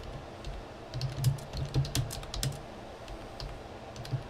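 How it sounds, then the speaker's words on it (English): Rapid, irregular clicking of keys on a computer keyboard, close by, in short bursts with brief pauses. "Let me just type in San Francisco."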